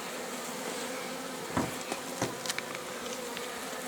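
Native local honeybees swarm and buzz around an opened beehive during a frame inspection with a little smoke, a steady dense drone with a few louder close passes.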